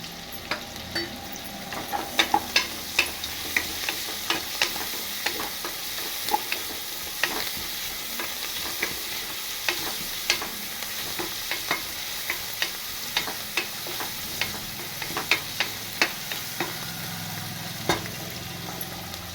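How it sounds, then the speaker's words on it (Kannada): Onions fry in oil for an egg biryani with a constant bright sizzle, punctuated by frequent sharp clicks and taps of a spoon stirring against the pan throughout. "ಈಗ ಈರುಳ್ಳಿ ಎಣ್ಣೆಲಿ ಚೆನ್ನಾಗಿ ಫ್ರೈ ಇದೆ"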